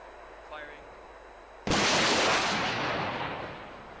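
An anti-tank rocket launcher fires at a BMP-2 target. Quiet talk comes first, then one sudden, loud launch blast that roars and slowly fades over the next two seconds.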